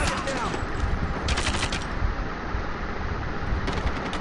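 Gunfire in the mobile game Call of Duty Mobile, rapid automatic bursts crackling densely across the clip, loud and close, with brief gaps between volleys.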